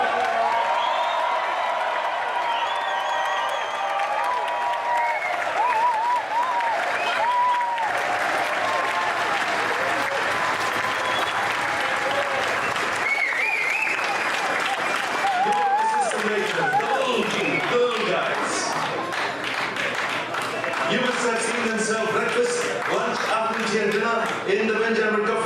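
Cruise ship audience in the main dining room applauding, whooping and cheering loudly and continuously, a dense crowd roar with voices rising through it.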